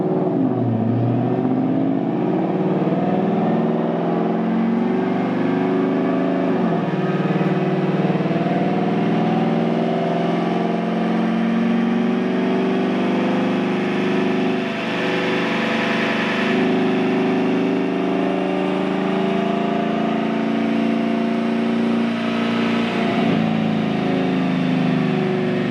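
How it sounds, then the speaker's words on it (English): A Ford Mustang strapped to a dyno roars steadily at high revs for the whole stretch, loud and close, with the pitch swelling and easing through a few surges around the middle and near the end. "They are ready to do the dyno test for us on a Mustang dyno."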